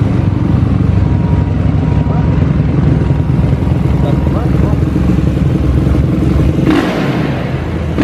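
A Honda CB motorcycle engine runs loud and close, rumbling steadily with a few rising revs, then briefly quieting near the end.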